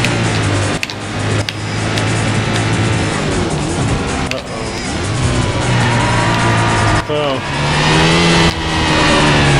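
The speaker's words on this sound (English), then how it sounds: "the R34 GTR just overcut us" A Nissan R34 GT-R in Need for Speed: High Stakes roars loudly, its engine revving and shifting through gears with repeated rises and drops in pitch while a person talks over it.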